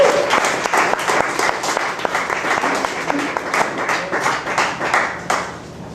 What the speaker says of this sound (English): I'd like to start with a round of applause for Tom Peters, who's kept this scene going